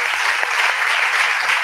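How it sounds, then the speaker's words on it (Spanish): An audience applauds loudly and steadily for about two seconds, a dense wash of clapping with no talk over it. "Un aplauso para Borja, ese hombre."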